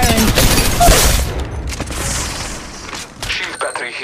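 Rapid bursts of gunfire from the mobile battle royale game Apex Legends Mobile crackle loudly over a dense mix of game effects, with a few sharp shots toward the end.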